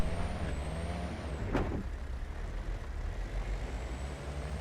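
A Jeep driving in the video game Dune Awakening gives off a steady, low engine rumble and road noise. It sits under a sharp hiss partway through and a faint high whine.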